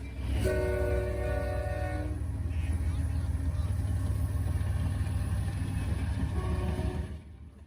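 Norfolk Southern NS 177 intermodal freight train on the New Castle District rumbling past loudly and steadily, with a sustained multi-tone horn blast early on, then continued heavy rolling noise that cuts off near the end.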